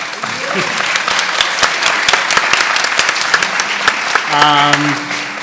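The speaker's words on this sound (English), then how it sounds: "one more round of applause for our amazing panel" Crowd applause for a panel at the Brooklyn Book Festival in Borough Hall Court, with crisp, close individual claps over a dense wash of clapping and a brief spoken voice near the end.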